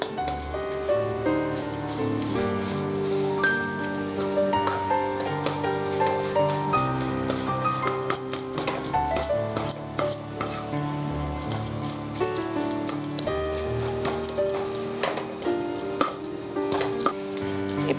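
Scrambled sweet being stirred and sautéed in a pan, with a steady sizzle and frequent light clinks of a utensil against the pan, heard close under background music.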